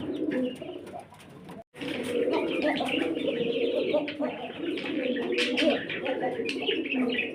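Pigeons cooing in a coop, a steady mix of close, overlapping coos and murmurs with some chirps, with a voice talking now and then over the birds.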